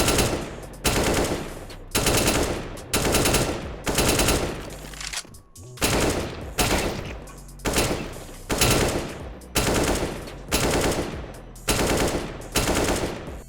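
AK rifle gunfire in CS:GO, loud full-auto bursts repeated in a steady rhythm with short gaps between each spray, close and dominant.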